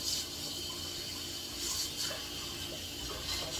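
Tap water runs into a pot as it is rinsed out, a steady rushing splash with a couple of brief surges, heard close up.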